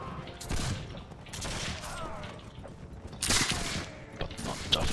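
Gunshots in the video game Mount & Blade With Fire & Sword, several sharp loud bangs spaced irregularly amid battle noise, the strongest shots coming near the middle and end.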